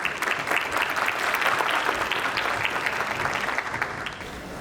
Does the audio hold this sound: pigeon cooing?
no